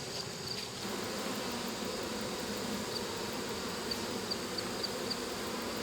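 Honey bees housed in a hive inside a wall fill the air with a dense, steady buzzing drone, close and continuous, with individual bees flitting past now and then.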